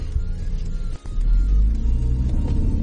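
A Changan CS75 Plus with a 7-speed wet dual-clutch gearbox pulls away hard from a standstill, its deep engine rumble swelling loudly and steadily after a brief dip, heard from inside the car.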